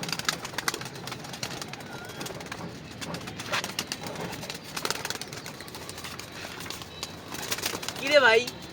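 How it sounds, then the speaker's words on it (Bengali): Two pigeons kept in a house coo softly amid faint indoor background noise and some rustling. A louder, clearer coo comes near the end. "আমার বাসার 2টা কানা কবুতর"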